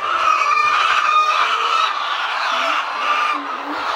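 Chickens cluck and squawk continuously around a hut on a farm where eggs are being gathered, a busy flock close by and fairly loud, with occasional rooster-like calls mixed into the steady fowl chatter.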